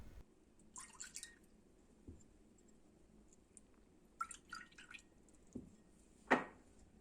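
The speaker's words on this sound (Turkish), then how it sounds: "Önce kayselerimizi suyla ıslatıyoruz." Water dripping and splashing as dessert bowls are wet for a tahini milk pudding: scattered faint drips and small splashes in a quiet kitchen, with a louder splash near the end.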